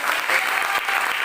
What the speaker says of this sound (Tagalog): So isa pa masigabong palakpak para sa Diyos.